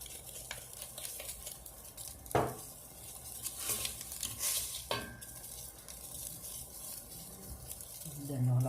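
Sardines frying in a pan for a tomato-sauce dish give a soft, steady sizzle up close, broken by a few sharp utensil scrapes and clinks against the pan.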